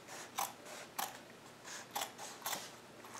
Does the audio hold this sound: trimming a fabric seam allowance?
yes